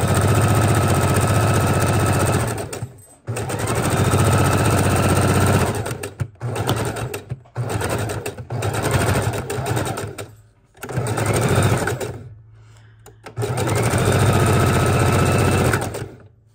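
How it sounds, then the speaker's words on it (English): A sewing machine runs a loose zigzag stitch in several close, loud bursts of motor whir, stopping and restarting with short pauses between runs. "let's put our foot down and zigzag. Again, this is a loose zigzag stitch up."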